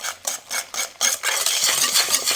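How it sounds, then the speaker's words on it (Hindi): A handheld beater whisks eggs with powdered sugar in a bowl for a bakery-style fruit cake, giving rhythmic scraping strokes that start in short bursts and then settle into a steady, continuous close-up rasp. "अब हैंड बीटर से इनको अच्छे से मिक्स कर लेंगे।"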